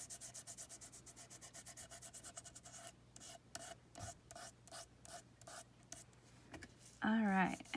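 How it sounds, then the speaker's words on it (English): Light rubbing of ink back and forth across a small artist trading card, a steady run of soft scratchy strokes that turn into slower separate swipes, close and faint, with a brief higher squeak near the end. "just kind of lightly rub across. I just use the back and forth motion."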